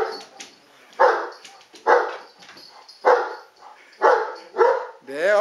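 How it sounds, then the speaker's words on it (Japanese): A dog barks five times in an even rhythm, loud and close, and a final higher yelp or whine closes the sequence. "吠えない。"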